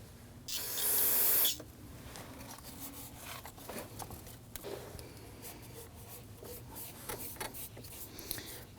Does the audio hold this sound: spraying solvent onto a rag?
yes